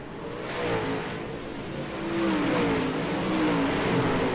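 Super late model stock cars race around the track at a Lanier feature event, several engines droning and revving together at steady volume, with rising and falling pitch as cars jostle and pass.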